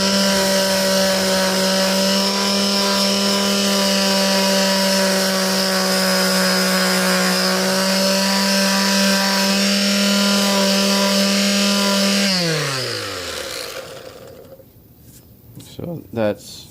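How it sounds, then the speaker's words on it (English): Power sander smoothing down raised wood filler on a piece of painted furniture, a steady loud droning hum running for about twelve seconds before winding down and stopping, followed by a few faint handling knocks. "so we'll just sand it down."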